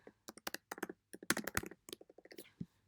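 Quick bursts of typing on a computer keyboard, clustered clicks in uneven rhythm with brief pauses between runs, fairly quiet and close, no voices.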